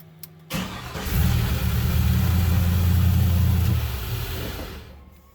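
A car with a B&M shifter set in park cranks and fires up, then settles into a steady idle for a few seconds before the engine note tapers off; close and fairly loud, no voices.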